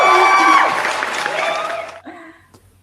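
Applause and cheering for award winners at a conference pre-event, a burst of clapping and crowd noise that tapers off within about two seconds, followed by a brief voice.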